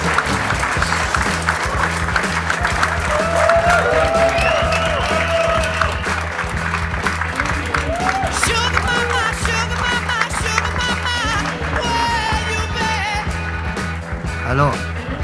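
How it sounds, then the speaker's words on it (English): Crowd applauding guitarist Jimmy Page at an in-store event at a Fnac shop, sustained clapping under a steady low hum with faint talk and scattered noises mixed in throughout. "je vous demande d'applaudir Jimmy Page"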